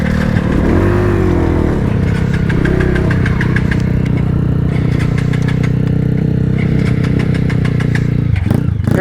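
Motorcycle engine running steadily and loud close by during a trail ride in San Fabian, Pangasinan, a constant idling rumble with slight revving, while people chat faintly in the background.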